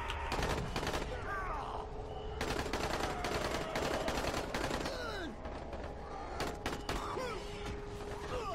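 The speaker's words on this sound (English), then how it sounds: "Okay, all their shooting's gotta be a bad thing, right?" Gunfire from Dying Light: The Following comes in rapid automatic bursts with pauses between volleys, fairly distant and steady in level, mixed with faint game ambience.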